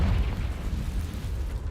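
The Confringo spell exploding in Hogwarts Legacy, a short, deep, booming burst heard alone.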